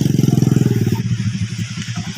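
Motorcycle engine being ridden across a river crossing after a typhoon, a close, loud pulsing putter that chugs rhythmically and then slows into uneven throbbing as it moves along.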